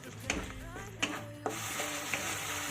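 Mustard spice paste sautéing in a pan, a soft sizzle under several distinct scraping strokes of a spatula, close and moderately quiet, with a voice faintly in the background.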